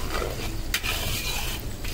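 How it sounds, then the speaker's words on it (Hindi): A spoon steadily scrapes and stirs thickened sugar syrup (chashni) in a pan after the gas is switched off, making continuous close scraping with faint sizzle, a brief sharper clink near the middle. "अभी गैस को बंद कर देंगे और कंटिन्यू हिलाते रहेंगे ताकि अपनी खांड में कोई गुठलियाँ ना पड़े।"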